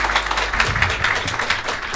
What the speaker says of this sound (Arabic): صفقوا لحالكم